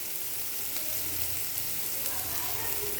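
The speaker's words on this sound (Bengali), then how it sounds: "পেঁয়াজটা অল্প একটু ভাজা ভাজা করে নেব।" Onions with green chillies fry in a pan with a steady, close sizzle and crackle of hot oil, continuous and fairly even, with no one talking over it.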